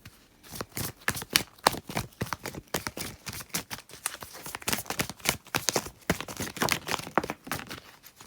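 A deck of Saltwater reading cards being shuffled by hand, with quick riffling and soft slapping bursts in an uneven, continuous rhythm, close and clear with no speech.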